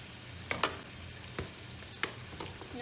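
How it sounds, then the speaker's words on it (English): Ground beef fries in a pan with a soft, even sizzle that runs throughout, broken by a few sharp scrapes and taps of stirring. Everything is close and quiet, and no one speaks. "The meat is cooking, so we're gonna add our seasonings."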